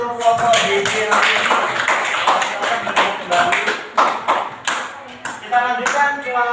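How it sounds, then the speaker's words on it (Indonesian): A classroom group claps for a student team, a dense run of hand claps with sharp bursts scattered through, mixed with voices talking over it. "Tepuk tangan dulu untuk kelompok DC nanti."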